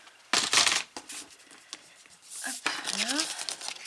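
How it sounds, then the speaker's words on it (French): A paper card being folded into a double flap card, with crisp crinkling and rubbing bursts close up, broken by brief pauses and a voice speaking briefly. "Et ici je vais plier."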